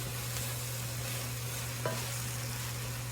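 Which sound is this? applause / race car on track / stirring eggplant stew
stirring eggplant stew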